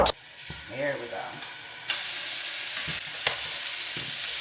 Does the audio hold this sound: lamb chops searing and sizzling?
yes